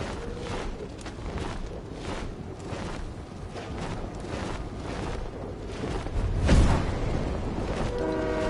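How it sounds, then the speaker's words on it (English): A train horn sounds from a distance around the middle of the stretch, rising over a steady rumble of an approaching train and broad outdoor noise. "Oh, the train coming."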